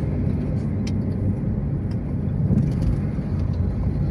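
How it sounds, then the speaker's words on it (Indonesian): A palm oil truck passes on the Jalan Lintas Timur highway between Lampung and Palembang, a loud, steady, broadband road rumble of heavy engine and tyre noise that holds evenly throughout. "Truk sawit."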